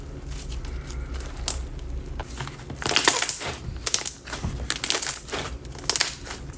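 Crispy Momo slime squished by hand gives off dense, crackling pops and crunches, close and fairly loud, with sharper bursts scattered through.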